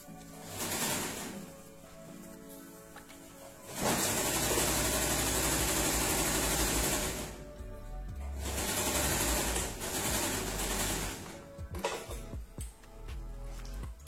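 A sewing machine runs in bursts, stitching through a layered stack of elastic bands for a gathered skirt, with a steady mechanical whir that stops and restarts between close, loud runs.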